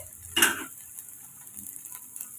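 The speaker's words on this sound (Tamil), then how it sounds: "இப்போ நல்லா ரெண்டு நிமிஷம் நம்ம வதக்கி விட்டு எடுத்துக்கோங்க" A brief sizzle and clatter of chopped beans and cabbage being stirred in hot oil, followed by quieter crackling in the pan.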